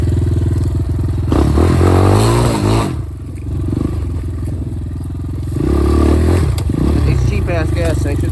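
A Yamaha Blaster ATV engine buzzes and revs while trail riding, rising and falling with throttle, loud and close, with rattling and scraping from the rough ground.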